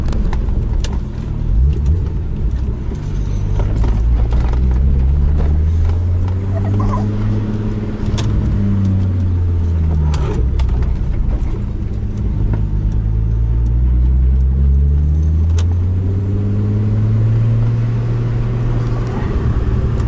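VW Golf 3 VR6 turbo driving on a test road, its engine droning loud and close with repeated rising and falling revs as it accelerates and shifts through gears.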